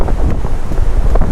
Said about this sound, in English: That's some pretty good sized waves rolling in.